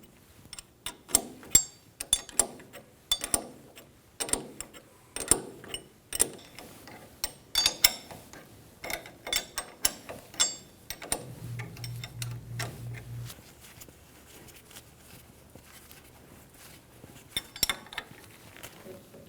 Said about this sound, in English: We're going to go around snugging these down with a 17mm wrench in a cross pattern